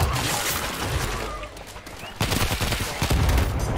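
Dense bursts of gunfire and explosions from the shooter video game World War Z, with loud rapid fusillades and blasts crowding the whole stretch and a heavy surge near the end.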